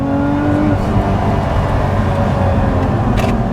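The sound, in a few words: Lotus Emira sports car engine driving in second gear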